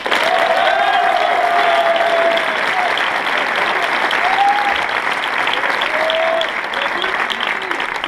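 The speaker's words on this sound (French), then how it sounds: "Et je vais vous demander un applaudissement tout spécial pour celle qui m'a remplacé pendant un mois cette année, ma vice-présidente Clarisse" An audience applauds for a vice-president at an event, steady, loud clapping throughout with a few voices calling out above it.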